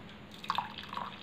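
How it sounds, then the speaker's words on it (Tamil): Ginger decoction (kashayam) being strained, a few soft, close drips and trickles of liquid scattered over a quiet second. "இப்போ நம்ம இதை வடிகட்டலாம்."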